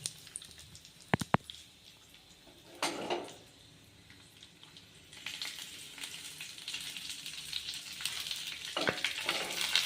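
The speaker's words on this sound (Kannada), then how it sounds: "ಇವಾಗ ಲಾಸ್ಟಿಗೆ ಕರಿಬೇವು ಹಾಕ್ಬೇಕು." Dry red chillies and curry leaves crackle and sizzle in hot oil while a yogurt poha is being made, a low steady frying hiss with sharp pops and bursts of spitting that swell toward the end, with no talk.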